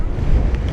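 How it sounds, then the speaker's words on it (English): Wind buffets a microphone on a hilltop in Bradgate Park, a loud, steady low rumble filling a brief moment with no voice over it. "I think you can pick it up on a DJI mic because it does suppress the wind sound pretty well"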